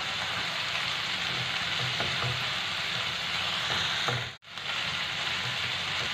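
Chicken and chopped green chillies frying in a pan, a steady close sizzle with faint stirring clicks throughout, broken by one brief silent gap near the end.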